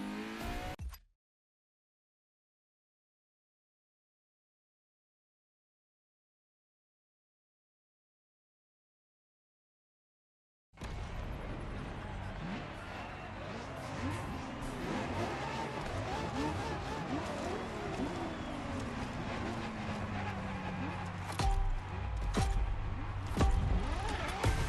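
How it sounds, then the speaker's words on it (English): A 2013 hybrid-engine Ferrari driving after a long stretch of silence, with a steady engine whir building into revving acceleration and rising pitch sweeps, loud and close. "Ferrari is the first Ferrari we have with an hybrid engine."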